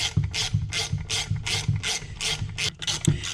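A ratchet wrench clicks steadily as it drives screws into a clutch assembly on a workbench, working on discs from an Arctic Cat Prowler; the rapid pawl clicks come in repeated regular strokes, close and clear with no talking.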